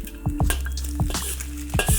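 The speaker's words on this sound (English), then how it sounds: "Give it a quick stir. I need to hear this sizzle a little bit." Food sizzles steadily in a wok with oil while a utensil stirs it, giving a continuous frying hiss broken by several scraping, clattering strokes against the pan, close and fairly loud.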